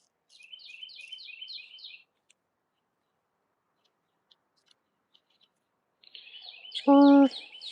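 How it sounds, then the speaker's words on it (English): Small birds chirp in quick repeated high trills in a garden, with one burst at the start and another near the end, separated by near silence, and a short, louder, lower-pitched call cuts in briefly near the close. "we hear the birds chirping."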